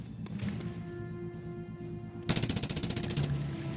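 Rapid automatic gunfire bursts from the video game Just Cause 2, a steady rattling stream over a droning in-game background, growing denser and louder in the second half.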